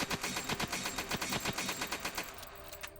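Rapid automatic gunfire from the Rogue Planet 2 video game as a horde of zombies is shot, a fast, even burst of loud shots for about two seconds that then stops.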